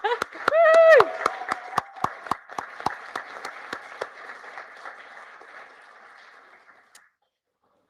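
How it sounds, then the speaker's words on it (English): Scattered claps from a graduation ceremony audience, sharp individual hand claps spaced out and thinning over several seconds, with a voice heard briefly near the start before the room falls silent. "let's give them a jolly good applause"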